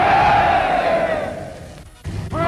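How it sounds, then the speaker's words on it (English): A large cricket crowd cheering for Don Bradman, a loud massed hurrah that swells and trails off, then a fresh roar rising near the end. "Yardley, who has described Don as the greatest cricketer of all time, called on the crowd to give him 3 special cheers"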